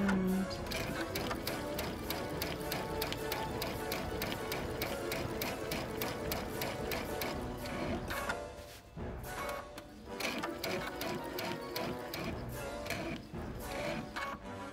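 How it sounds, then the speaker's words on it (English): A sewing machine quilting fabric for a Halloween table mat runner, stitching at a slow steady pace with dense rapid ticking, continuous and fairly close, with a brief pause near the end before resuming. "I sew very slowly, and then I lift my foot, I turn the fabric, and then I continue sewing"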